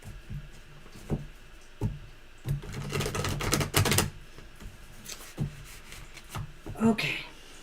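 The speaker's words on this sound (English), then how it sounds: "Let me shuffle one more time here." Tarot cards being shuffled by hand, with soft riffling bursts and scattered taps and flicks, close and moderately loud.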